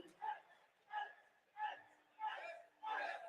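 An esports arena crowd of Ence fans chanting in five rhythmic, evenly spaced bursts, distant and muffled, the fifth swelling longest.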